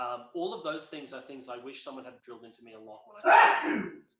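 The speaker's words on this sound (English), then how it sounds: "That was a sneeze." Someone talks steadily during a music lesson, then lets out a single loud, abrupt sneeze close to the microphone.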